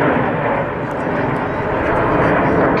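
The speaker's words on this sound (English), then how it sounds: "right back to the power as they fly this very difficult formation" Jet aircraft flying a tight formation display at the Farnborough Airshow 2010 produce a loud, continuous roar of engine power that holds steady throughout, with a commentator's voice partly mixed in.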